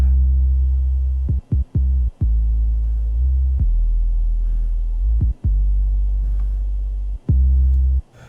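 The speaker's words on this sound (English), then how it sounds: "because the original bass sounds like this" Original bass line of a music track, a deep sustained low tone with rich harmonics, cut by several brief gaps and swelling steadily, heard alone without voices.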